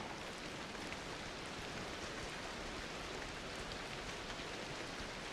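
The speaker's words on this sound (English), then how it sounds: "Oh, no, it's still raining." Steady rain falls in the game Ancestors: The Humankind Odyssey, an even, unbroken hiss of drops on surfaces at low volume, with no talk.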